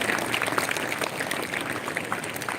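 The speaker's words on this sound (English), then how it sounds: "can we have the claps for the students?" An audience claps for students at a school National Science Day event, dense continuous applause from a crowd in a hall, steady and loud throughout.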